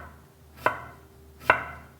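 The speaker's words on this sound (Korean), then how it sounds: "껍질을 까서 호박은 아주 얇게 썰어주세요." Peeled yellow squash is sliced thinly on a cutting board, two distinct knife taps spaced under a second apart, close and crisp against quiet room tone.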